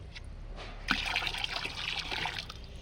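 Liquid fertilizer poured into a 10-litre bucket of water gives a steady splashing trickle with a sharper splash near the start, continuing evenly under light background noise.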